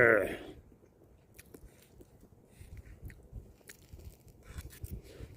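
Someone eating couscous outdoors at a forest campsite, with soft close chewing and small crunches after a brief louder sound at the start, quiet and intimate.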